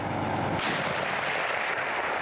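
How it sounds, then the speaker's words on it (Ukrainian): A single heavy artillery gun blast bursts out sharply and loud, followed by a rumbling, noisy roar that lingers without pause. "Давай, постріл!"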